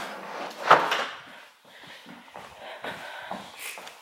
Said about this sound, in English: I have to shut this door.